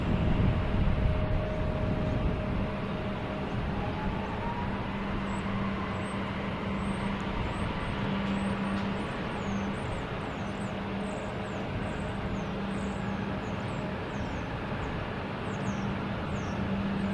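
An Airbus A380 airliner landing at Boston Logan Airport, a distant, steady engine roar that holds faint and even throughout.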